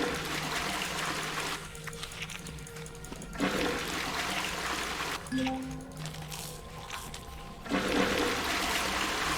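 A toilet flushes inside the space survival game Empyrion Galactic Survival, with a rushing water surge and trickling that fade and swell over several seconds, set against constant game ambience and with no talk.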